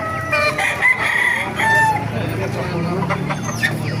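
Roosters crow repeatedly at a moderate distance at a market in Baliuag, their calls overlapping against a busy outdoor background with a voice talking at times.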